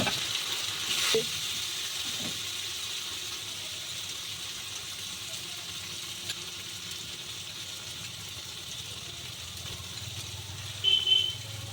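Cumin and coriander powder sizzle in hot oil for doi katla, a steady close frying hiss that carries on evenly with a couple of brief clinks and a faint distant car horn.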